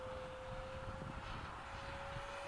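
Freewing 90mm F-15 RC jet flying overhead at a sunset formation flight, a steady whining jet roar with a strong sustained tone, moderately loud and without talk.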